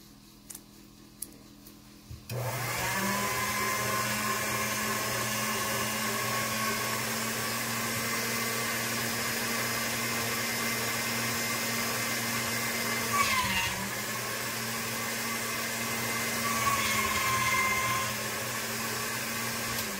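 A pasta-style machine rolls old polymer clay, starting up after a few faint clicks and then running as a steady, fairly loud motorized whir with a slight dip midway.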